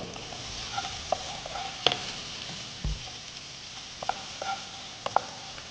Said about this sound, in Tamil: வெங்காயம் போட்டுக்கிறோம் வெங்காயம் நல்லா வதங்கணும்